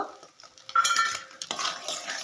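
Grated coconut is stirred in a pan for a peanut and coconut brittle: close scraping and clinking of a utensil against the pan in irregular strokes, with a faint sizzle underneath.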